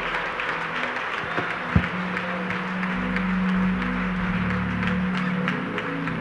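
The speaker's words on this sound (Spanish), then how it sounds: "un aplauso fuerte al Señor" A church congregation at a 2015 convention claps in praise to God, producing steady, loud applause, with a low sustained organ or keyboard tone humming underneath.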